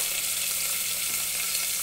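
Ginger and garlic frying in hot oil, a steady, close, dense sizzle with a constant crackling hiss and no talking.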